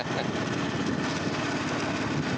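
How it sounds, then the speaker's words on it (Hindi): A motorbike's engine drones steadily and close while riding along a road through a factory area on Faisalabad Road after rain, with a continuous, buzzy hum and no speech. "हम बाइक पे सफ़र कर रहे हैं"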